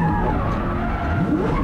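A drift car spins out at Val d'Argenton during a French drift championship round, tires skidding in a short continuous squeal over engine noise.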